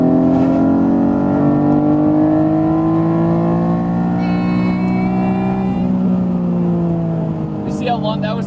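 An Acura NSX pulls through a long second gear, the engine note rising steadily and loudly for several seconds from inside the car before easing off near the end.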